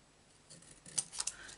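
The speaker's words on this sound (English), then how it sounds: "And I know the scissors jumped at the end." Scissors cut paper for a handmade Stampin' Up card, giving a few crisp snips and a sharp final snap close by in a quiet room.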